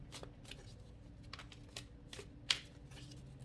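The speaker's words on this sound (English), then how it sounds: "Let me give this another shuffle." Quiet riffling and soft slaps of tarot cards being shuffled by hand, a run of irregular flicks close by with no talking.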